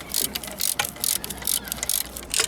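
A ratchet wrench tightening the exhaust connection on a Mondial 150 HS scooter, heard as rapid clicking bursts repeating in short strokes, close by with no talk.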